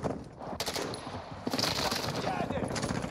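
Automatic gunfire in the Call of Duty DMZ game mode, with aggressive bot enemies, crackling in dense bursts that run through most of the stretch, with sharp onsets partway through and game sounds layered around it.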